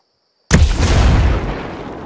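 A frag grenade detonates in the video game Tom Clancy's Ghost Recon Breakpoint: after a moment of silence, a single loud, close boom hits suddenly, then a rumbling tail slowly decays, with no talking.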